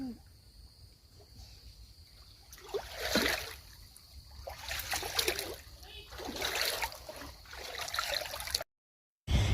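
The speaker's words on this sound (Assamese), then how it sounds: "এয়া নদীতে খোজকাঢ়ি আছোঁ" Footsteps wading through cold, clear river water over white and red stones, with repeated splashes and trickling water at close range, bursts of splashing rising and falling steadily throughout.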